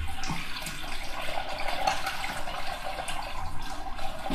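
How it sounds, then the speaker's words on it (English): A bathroom tap runs steadily while filling water for shaving. The rushing, even hiss of water continues unbroken and close by, with no voices. "I'm gonna fill water."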